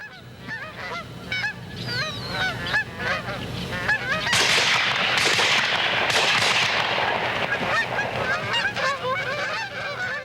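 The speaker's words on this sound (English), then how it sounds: "Goose hunting action on opening day is fast and furious as one flock comes in after another," Flock of giant Canada geese honking repeatedly and loudly overhead during an opening-day goose hunt, calls overlapping in a busy chorus, followed by a burst of shotgun fire.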